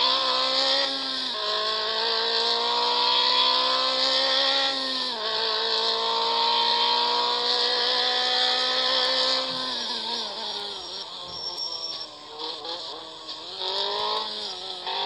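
A car engine in the mobile driving game Real Driving 3D drones and revs through several gear shifts, each rise in pitch dropping back, continuous and fairly loud with no talk over it.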